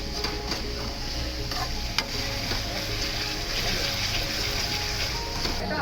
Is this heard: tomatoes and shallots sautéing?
yes